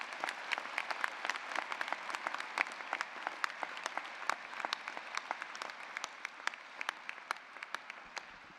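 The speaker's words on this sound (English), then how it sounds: "A big round of applause." A commencement-ceremony audience at Nova Southeastern University applauds its orchestra: dense, steady clapping from a large crowd with sharp individual claps standing out, sustained evenly for about nine seconds without talk.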